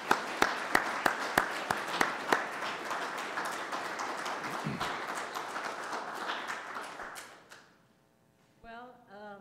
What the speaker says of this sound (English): I'd like everyone to please welcome our presenters with a warm applause